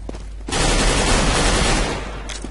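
Sustained burst of automatic gunfire in Counter-Strike: Global Offensive on the Mirage map during a competitive match, a loud dense volley lasting about two seconds after a short quiet start, with no talking.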